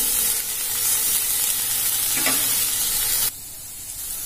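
Chopped coriander sautéing in a pan for chicken curry, a loud continuous sizzle with faint stirring scrapes that drops suddenly to a quieter hiss near the end, no talking.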